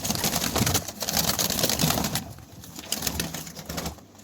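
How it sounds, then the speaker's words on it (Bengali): Fantail pigeons cooing at a pigeon farm, several birds calling close by in soft overlapping bursts with wing rustles, no talk. "যেমন হচ্ছে এগুলো সব হচ্ছে ফাটা কবুতর"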